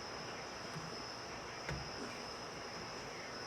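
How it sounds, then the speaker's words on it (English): Crickets chirp steadily outdoors in a continuous high, thin drone, faint and unbroken under a soft background hiss. "some of the fuzziness that you hear is also the crickets that are out here as well"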